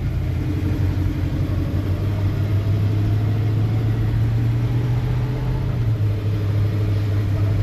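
A carbureted car engine drones steadily and loudly while driving over a bumpy road, with a continuous low rumble and a sustained engine tone that shifts slightly near the end.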